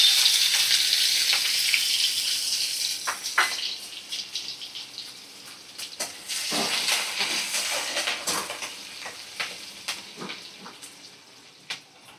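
Chopped onion hitting hot oil with whole cumin seeds for khichuri, a loud bright sizzle that surges as the onion goes in, then settles into frying crackle with occasional stirring scrapes, close up.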